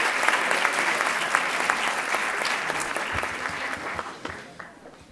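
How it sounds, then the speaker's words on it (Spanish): A graduation ceremony audience at a Spanish university centre gives sustained applause for the rector, many hands clapping densely and evenly before tapering off at the end. "Un aplauso para él."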